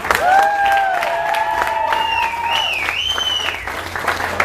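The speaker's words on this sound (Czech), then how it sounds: "Já myslím, že to zaslouží velký potlesk." Applause from a crowd at an evening party for volleyball players on a terrace in Opava, steady dense clapping throughout, with whistles or cheering voices rising and sliding above it.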